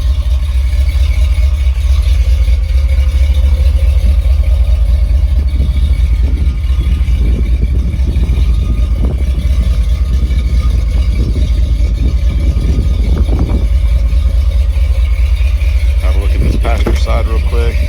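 A 1978 Ford Bronco Ranger XLT idles steadily with a deep, even low rumble throughout, a few brief clanks and a burst of faint talk near the end.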